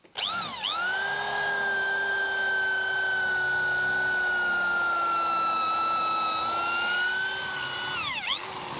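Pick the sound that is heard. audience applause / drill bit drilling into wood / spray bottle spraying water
drill bit drilling into wood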